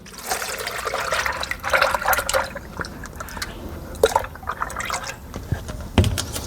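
Car dip coating liquid pours and splashes steadily into a large bucket, with a few sharper drips and sloshes, fairly close and moderately loud.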